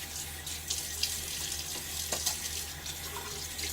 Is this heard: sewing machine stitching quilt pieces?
no